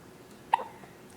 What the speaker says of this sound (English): Baby girl's got the hiccups.